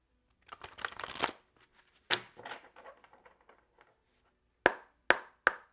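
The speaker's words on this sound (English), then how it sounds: "All right, one more shuffle." Tarot cards shuffled close by: a quick riffling flurry, then a second softer riffle, followed by three sharp taps as the deck is squared against a surface.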